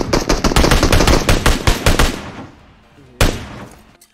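Rapid automatic gunfire in the video game PUBG Mobile crackles in a dense, loud burst of shots lasting about two seconds, tapers into a fading echo, then one more sharp shot rings out near the end.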